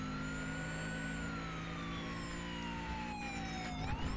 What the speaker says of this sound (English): I'll turn my siren on.